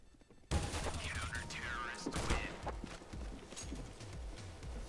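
Rapid gunfire from a player's weapon in the shooter game CS:GO, a sudden dense burst of repeated shots continuing for several seconds alongside game sound effects.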